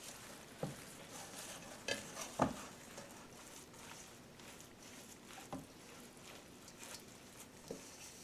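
Seasonings are stirred into a raw massaged kale salad of organic ingredients and sea vegetables. A few soft, moist squishes and clinks of a utensil against the bowl sit over a quiet background.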